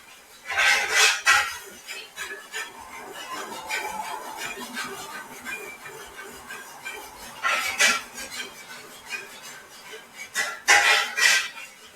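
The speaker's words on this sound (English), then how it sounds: "Try not to stir it too vigorously, but just stir it." Stirring melted wax in a pot, with clinks and scrapes of a utensil against the pot coming in bursts, some louder knocks near the start and the end, quiet between.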